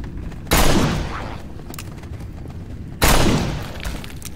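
Two loud, sharp gunshots ring out about two and a half seconds apart in the zombie shooter No More Room in Hell, each decaying into a brief echo.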